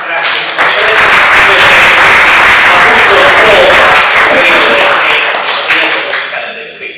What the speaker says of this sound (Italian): un grande veramente applauso a loro per aver portato una bellissima testimonianza musicale